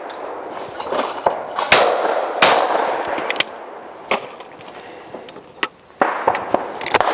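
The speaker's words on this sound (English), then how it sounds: "So now I've got the new XS. I'm going to shoot the same targets." A new Browning XS shotgun fires at clay targets, giving sharp loud blasts at irregular intervals, some followed by fainter distant reports, in an open outdoor shooting setting.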